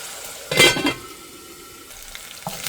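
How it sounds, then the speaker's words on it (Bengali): Spice paste (masala) for chicken bhuna fries in a pan: a short loud burst of stirring and scraping, then a low, soft sizzle that continues quietly close by. "মশলাটা ভাজা নি"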